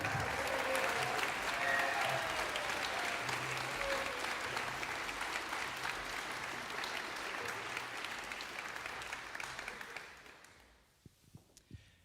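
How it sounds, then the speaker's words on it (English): A concert hall audience applauds a Melbourne Symphony Orchestra assistant principal cellist, a dense, sustained wash of clapping lasting about ten seconds before fading out. "How about another round of applause for our absolutely amazing MSO Assistant Principal Cello, Elena Fasky."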